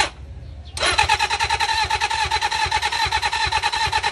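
Big bike motorcycle engine in a workshop project, quiet background then a sudden crank and catch into a loud, close, steady rhythmic idle that continues chugging unevenly.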